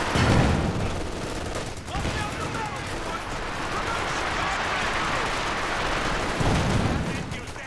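Company of Heroes 2 battle with dense rifle and machine gun fire, continuous crackling volleys and bursts layered over low rumbling, loud and chaotic for the whole stretch, with a voice talking underneath.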